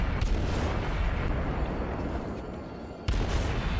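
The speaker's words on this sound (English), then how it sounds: "I'm able to just keep firing away at it" Rapid naval guns firing in the World of Warships video game, booming blasts followed by a rolling roar that fades, then another sharp shot near the end.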